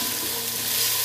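Onion sautés in a pan for pasta in tuna and cream, a dense, loud, unbroken sizzle heard up close with no voices.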